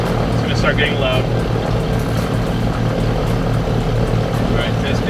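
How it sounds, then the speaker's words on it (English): Blimp scoop blowers roar loudly and steadily, with a strong low rumbling hum and rhythmic pulsing throughout, and faint voices in the background. "Now I'm going to check if the scoop blowers are doing their thing."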